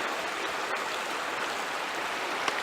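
A creek flows steadily close by among rocks in a snake and salamander habitat, a constant bright rushing burble with no voices.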